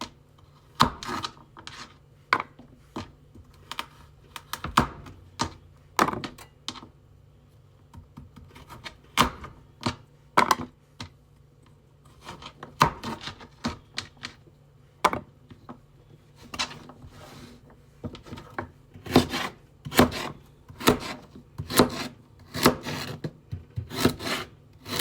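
A knife chops vegetables into cubes on a wooden cutting board for homemade chicken soup, giving a long run of sharp, close, irregular knocks that speed into quick bursts toward the end, with no talking.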